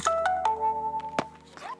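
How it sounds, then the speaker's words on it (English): A phone ringtone plays a short melodic electronic phrase of a few notes over faint background hum, with a soft voice sound near the end. "I should turn off my phone."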